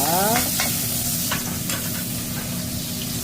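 Kimchi sizzles loudly in hot cooking oil with pork shoulder while a utensil scrapes and stirs the pan several times, close up and without talking.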